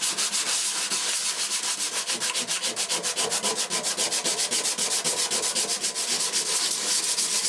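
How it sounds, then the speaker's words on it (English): Sandpaper rubs corrosion off a part from an old IBM ThinkCentre computer, a loud, close, rhythmic back-and-forth scraping that repeats steadily throughout with no talking. "And just sand at it like that until we can get rid."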